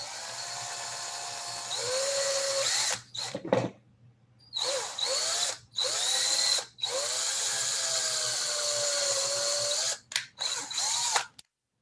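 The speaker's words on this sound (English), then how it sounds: "But first, I'm drilling my pilot holes." A power drill whirs in several bursts drilling pilot holes for a bee hotel, spinning up and down with short pauses between, loud and close.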